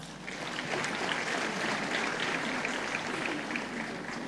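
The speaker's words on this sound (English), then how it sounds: "please give a warm round of applause for Mopato Dance Theatre" Audience at the 43rd Botswana Sport Awards ceremony clapping for Mopato Dance Theatre, dense sustained applause from a large crowd, even and fairly loud throughout with no voices standing out.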